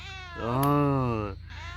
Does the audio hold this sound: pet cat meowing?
yes